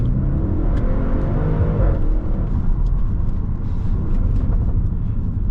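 An Audi RS7 accelerating hard out of a roundabout at night, its engine a loud, sustained roar that climbs in pitch from inside the cabin, steady and unbroken with no talk.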